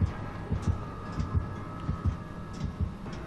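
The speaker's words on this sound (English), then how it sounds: "I don't like the heartbeats." Low, thumping heartbeat pulses repeat at a steady pace in Dead by Daylight, a throbbing warning rhythm with a faint hum and ambient game noise behind it.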